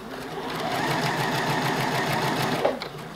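A Juki DX7 computerised sewing machine stitching steadily, its motor humming with a fast rhythmic needle clatter that runs for about three seconds before a few small clicks as it stops.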